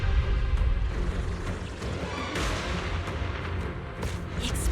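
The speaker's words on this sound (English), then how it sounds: "The explosions are becoming more frequent." Booming explosions from cocoon blasts in the video game Zenless Zone Zero come in a rumbling series, heavy low thuds under sharper cracking bursts. They sound loud and close, with several distinct hits near the end.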